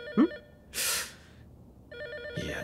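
A telephone ringing inside a horror video game set in a mansion, two short electronic ring bursts separated by pauses, with a brief gasp and breathy noises in between.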